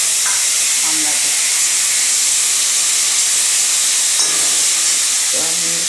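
Boiled hog plum sizzles in a pan with mustard and dried chilli, a loud, steady hissing fry filling the whole stretch, with faint clinks from stirring.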